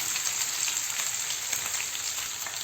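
Pork frying in a pan while being stirred gives a dense, even sizzle, close and steady throughout, with faint scraping under the crackle and no talking.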